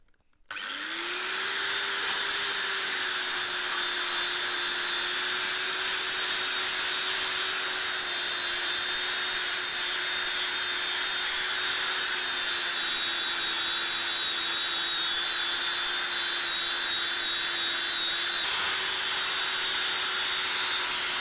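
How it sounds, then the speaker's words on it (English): Angle grinder spinning a brass wire brush against old metal to clean it, a loud steady high whine that runs continuously for about twenty seconds with no voices over it. "So I'm giving it a run with the angle grinder and a brass brush on it here"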